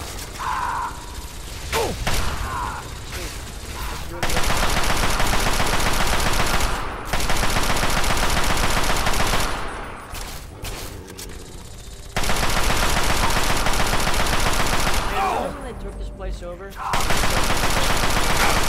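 Fallout 3 video game gunfire: long bursts of rapid, loud automatic shots come in several stretches, broken by quieter pauses, with a voice speaking between them.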